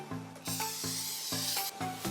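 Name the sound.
spraying cooking oil into saucepan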